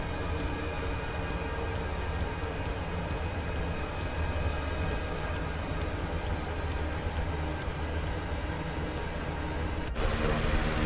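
Jet airliner engines idle in Microsoft Flight Simulator with flaps down before takeoff and a cabin door open, a steady broadband roar with a faint high whine, continuous and unchanging until a brief drop near the end.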